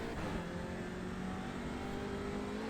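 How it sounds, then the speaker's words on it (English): An Audi RS3 TCR touring car in iRacing at Knockhill holds full throttle, its engine a steady, loud tonal drone with no talk over it. "Yeah, just full throttle, pin it."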